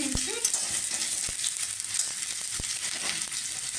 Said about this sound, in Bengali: পেঁয়াজটা একটু প্রথমে ভেজে নিচ্ছি